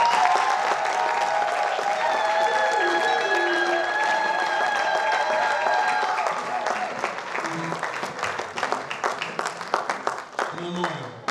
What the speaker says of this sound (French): Est-ce qu'on peut applaudir notre sœur?